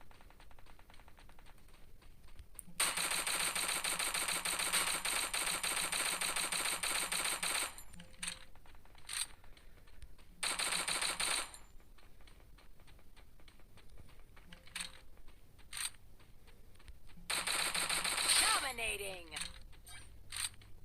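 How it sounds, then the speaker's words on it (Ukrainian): Bursts of rapid automatic gunfire in the video game Garena Free Fire rattle in several sustained volleys, separated by quieter stretches with short clicks and a brief electronic sweep near the end. "хтось стріляє там"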